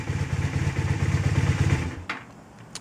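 A motorcycle engine, started with a jumper wire fix for a faulty starter, runs at a steady pulsing idle close by, then cuts off, leaving a couple of sharp clicks.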